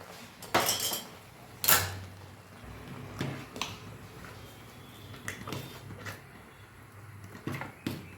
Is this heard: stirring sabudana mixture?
yes